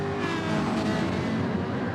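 Race car engines drone steadily in GT Sport during a Super Series 700 race at Interlagos in Brazil, with a Lamborghini and a striped Ferrari among the cars, a dense continuous roar that stays loud throughout.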